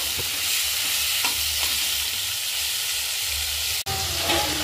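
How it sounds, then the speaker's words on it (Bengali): Sliced onions fry in hot oil for chicken biryani, a dense, continuous sizzle with faint stirring scrapes and one brief break near the end. "তেলে দেওয়ার সময় পেঁয়াজটা কিন্তু আমি খুব সুন্দর করে চিপে চিপে তেলে দিয়ে দিচ্ছি"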